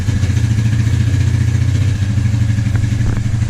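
Suzuki Ozark 250 ATV engine running close by, a loud steady low throb with a rhythmic lope and faint mechanical clatter, no voices.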